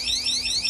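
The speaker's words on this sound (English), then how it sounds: "That is the super sensitive water alarm that we have here" A super sensitive water alarm on a home air conditioning unit going off, a loud shrill electronic tone that sweeps up repeatedly in rapid pulses, close and alone.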